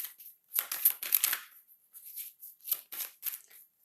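Cards for a card reading draw are shuffled by hand in quick bursts of crisp riffling and flicking, close and dry, with short pauses between several rapid clusters and no voices.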